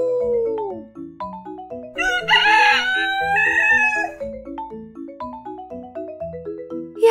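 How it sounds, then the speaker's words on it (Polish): A rooster lets out one loud, bright crow in the middle, set against a steady bouncy melodic backing of repeated plucked notes that runs throughout. "Jak robi kogut? Kogut pieje."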